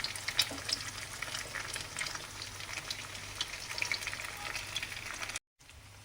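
Eggs fry steadily in a hot pan for butter egg sevai, a dense continuous crackle and sizzle with a low steady hum underneath, close by, dropping to near silence at the very end.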